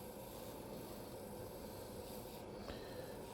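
A wooden spin top box is sanded on a woodturning lathe, giving a steady, quiet, continuous rasping rub with no pauses and no talk.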